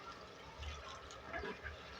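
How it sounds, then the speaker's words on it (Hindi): A little water poured into a pan of beef keema karahi as it cooks, a soft steady splash and sizzle that stays low and continuous throughout, with no talking. "इसके अंदर मैं थोड़ा सा पानी ऐड कर रही हूँ"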